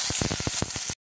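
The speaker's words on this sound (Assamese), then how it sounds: "ইয়াতে মই দিছো এয়া আদা নহৰু গোটা জিৰা ধনিয়া কেঁচা জলকীয়া এখিনি দি এখিনি অলপ সময় ভাজি লম" Ginger, garlic, whole cumin, coriander and green chilies fry in hot oil with a loud, close, steady sizzle. Repeated crackling pops run through it, then the sound cuts off abruptly.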